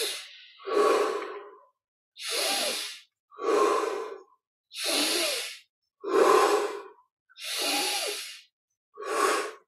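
Slow, deep breaths during a guided meditation: about eight long, audible inhales and exhales, close and unhurried, each followed by a brief silence.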